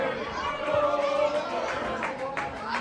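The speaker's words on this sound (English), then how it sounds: "Crowd reminding us who made the jackhammer famous" Wrestling arena crowd chanting in unison at a live match, a steady sustained roar of many voices with rhythmic swells, loud and continuous throughout.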